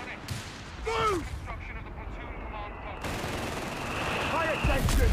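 Bursts of machine gun fire from a World War II battle in the strategy game Company of Heroes 3, rattling in short runs amid explosions and battlefield noise, with voices shouting over the combat.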